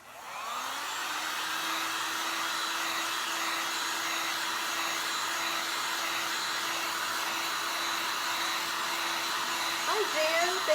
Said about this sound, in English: So I'm going to give this a quick dry.